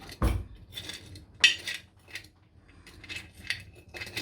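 A tablespoon clinks and taps against a sugar container and dishes in a home kitchen, a few light, scattered metallic knocks heard up close without speech.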